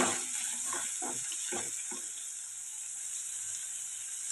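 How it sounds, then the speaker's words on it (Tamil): Onions sauté in hot sesame oil with cumin, giving a soft, steady sizzle with a few stirring scrapes early on, faint and close. "நல்லெண்ணெய் சூடானதையும் சீரகம் போட்டிருக்கேன் சீரகம் பொறிஞ்ச உடனேயும் ஆனியன் சேர்த்துருக்கேன் ஆனியன் நல்லா வதங்கட்டும்"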